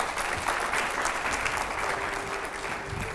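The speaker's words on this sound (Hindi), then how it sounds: "मैं यहां पर जोरदार पहले तो तालियां हो" A studio audience at a televised Hindi news panel show gives steady, full applause, an even crackling roar of many hands that holds at a constant level throughout.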